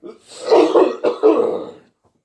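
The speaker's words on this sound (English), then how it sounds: "That's a weed cough, just so y'all know." Close, raspy coughing from smoking weed and throat clearing in a few rough bursts, trailing off into silence.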